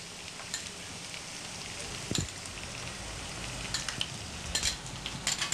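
Small pieces of garlic fry in a pan after mustard seeds, stirred with quick scrapes and clinks over a soft sizzle, fairly quiet and close.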